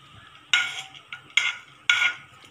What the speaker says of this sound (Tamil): பூண்டோட வெங்காயத்தை போட்டு நல்லா வதக்குங்க